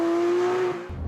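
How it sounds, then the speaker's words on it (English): A Porsche 911 with a 4-liter six-cylinder engine sounds off in a steady, strong mechanical drone that fades at the end. "the best thing about this car is its 4-liter 6-cylinder engine and the great sound it makes"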